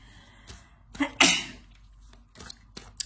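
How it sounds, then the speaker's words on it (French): One sharp, close sneeze bursts out from a woman after a quick intake of breath, with a few soft breaths and small mouth sounds around it in a quiet room. "Je vais éternuer, désolée, ça me chatouille."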